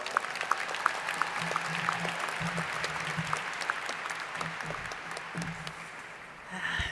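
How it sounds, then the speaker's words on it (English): A commencement crowd at Portland Community College applauds steadily, many hands clapping at moderate distance with a few sharper individual claps standing out, tapering slightly before a brief rise at the end. "Please give them a round of applause."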